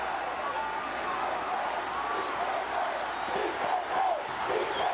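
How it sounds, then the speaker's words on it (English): Football crowd in Managua during a Nicaragua vs French Guiana Concacaf Nations League match, massed voices chanting and roaring in a sustained swell that rises and falls, with a commentator talking over the top. "the crowd chanting, "Si se puede.""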